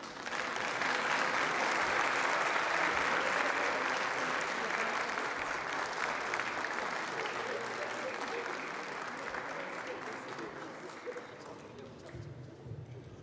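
Audience applause at a Caucasian community cultural night in Kayseri, a broad crowd clapping loudly and steadily, then gradually thinning and fading toward the end, with some voices under it.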